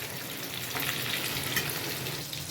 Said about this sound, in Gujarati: હવે આપણા પકોડા તળાવવા મળ્યા છે